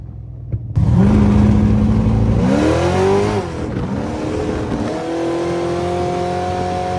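Car driven hard at Powercruise, engine revving loud and close with rising and falling pitch as it accelerates through gears after a sharp start, steady roar continuing to the end.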